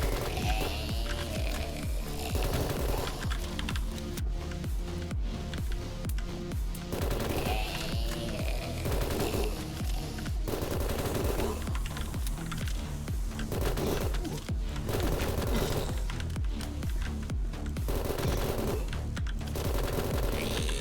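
SMG fire in the video game BITGUN: dense, sustained bursts of rapid automatic gunfire, loud and continuous with brief gaps between volleys, alone without talk.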